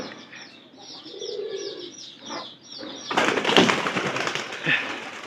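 A pigeon coos softly in a low, repeated warble for a few seconds, then louder rustling and fluttering take over nearby.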